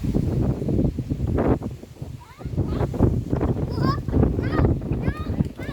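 Strong, gusty wind from a sudden rain storm roars across an open pond area, a continuous rough rushing that swells and dips throughout while several people talk and call out over it.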